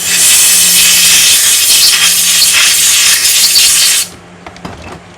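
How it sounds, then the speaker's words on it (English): Compressed air blasts loudly and steadily through a plastic Briggs carburetor for about four seconds, a harsh, close hiss that cuts off abruptly and leaves a few faint clicks and handling noises. "blow it out with compressed air"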